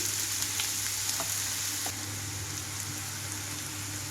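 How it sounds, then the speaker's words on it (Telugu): Chopped onions frying in a pan for a dhaba-style egg keema curry, giving a dense, steady sizzle that stays loud and close throughout, with a few faint stirring clicks and no talking. "ఉల్లిపాయలు ఇక్కడ వేగిపోవాలండి"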